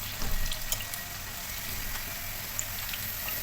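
Chicken pieces fry in a pan for sizzler biryani, giving a soft, continuous sizzle with a few faint clinks, quiet and steady with no speech.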